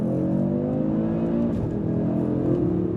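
A 2024 Audi RS3 engine revs hard and holds high in launch control before accelerating away, a loud continuous rising roar heard from inside the car with no talking.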